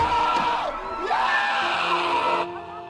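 A husband screams in a film scene, loud strained yelling and wailing cries overlapping in a dense, noisy mix that fades slightly near the end.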